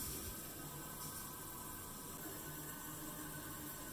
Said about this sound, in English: Turn on the water and then flush the toilet and allow the water to fill up.